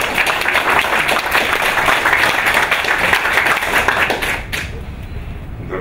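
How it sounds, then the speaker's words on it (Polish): Audience applause at a Polish public lecture on banking and finance: dense, steady clapping from a crowd that fills most of the stretch, then thins out abruptly near the end. "dostałem brawa"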